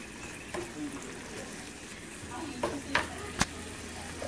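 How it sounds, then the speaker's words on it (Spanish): An egg frying in oil in a pan while making Honduran-style Chinese fried rice, with a steady close sizzle and a few sharp clinks of a utensil against the pan. "Ahorita aquí ya lo estoy friendo."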